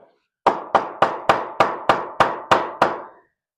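A hammer strikes wood nine times at a steady, brisk rhythm while a chicken brooder is built, each blow sharp and close with a short ringing decay, and no one speaks.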